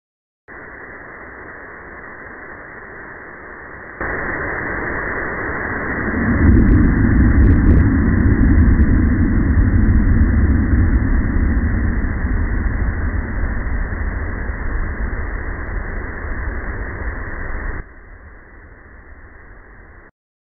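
Underwater recording of the OceanGate Titan submersible implosion: a hiss jumps louder, then a heavy low rumbling drone swells and carries on for many seconds before cutting back to faint static.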